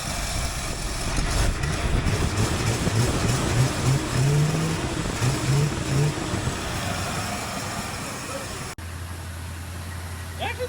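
A revived car engine, newly restarted and clearing its exhaust, runs with a steady rough rumble and slight pulsing at close range, then shifts abruptly to a smoother, lower drone near the end.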